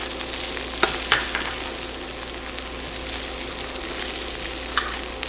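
Garlic, peppers and onions sizzle steadily in a frying pan, a dense, even crackle close by with a few sharper pops and no talking.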